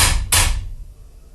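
A hammer hitting a tough carbide chamfering tool hard, two sharp, close metallic blows in quick succession, then a brief fading ring.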